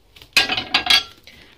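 A frying pan and other pots and pans clink and clatter as dishes are washed in water, a few sharp metallic knocks over about a second, close and moderately loud.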